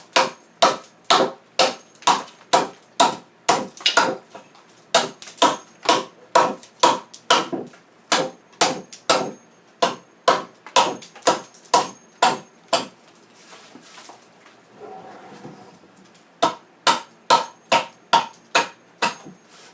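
An adze chopping into wood while hollowing a wooden bowl: sharp, close, evenly spaced thunks at a brisk steady pace, with one brief pause and a shuffling sound before the strokes resume.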